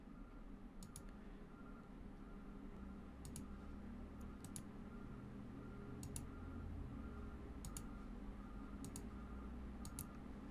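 Faint, crisp computer mouse clicks come one at a time, roughly every second or two, while partitions are deleted during a Windows 10 clean install, over a low steady background hum.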